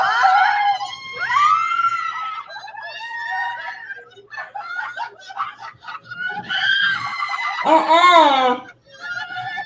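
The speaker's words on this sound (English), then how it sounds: "you guys are screaming" Several people scream loudly, their high wavering shrieks mixed with giggles and laughter in a continuous, close outburst that peaks near the end.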